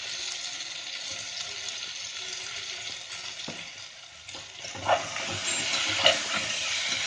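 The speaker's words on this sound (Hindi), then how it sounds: "अब इसमें डाल देंगे भिगी हुई सोयाबीन और थोड़ा सा नमक।" Soaked soybeans and a little salt going into a pot of cooked tomatoes for soybean khichdi, giving a steady close sizzle and hiss with a few stirring scrapes and knocks near the end, no talking.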